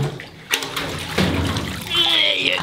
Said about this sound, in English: Okay, Maxie, we're going to rinse that off in this one.